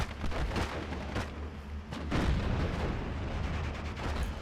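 Cromwell tank firing in the WWII strategy game Steel Division: Normandy 44, a dense battlefield of repeated booming cannon shots and gunfire over a low rumbling bed, several sharp reports spread through.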